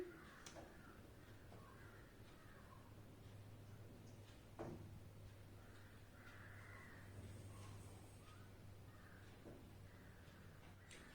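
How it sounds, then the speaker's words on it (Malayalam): A crow caws a few times at a distance, each call short and faint, spaced several seconds apart over a steady low indoor hum. "കാക്ക പാട്ട് തുടങ്ങി."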